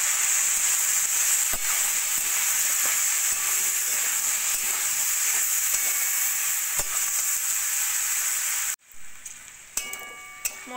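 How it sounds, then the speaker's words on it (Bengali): Vegetables, beetroot and carrot, frying in a pan with salt, turmeric, cumin powder and broken green chillies: a loud continuous sizzle with occasional stirring clicks, cutting off sharply near the end into quieter scraping. "মশলা দিয়ে একটু ভাজা ভাজা করে নিয়েছি।"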